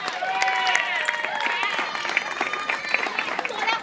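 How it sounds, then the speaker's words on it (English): Audience at a community back-to-school celebration applauding and cheering for a local family, steady clapping mixed with excited high-pitched shouts and whoops from the crowd throughout. "Let's give the Wallaces a round of applause, y'all."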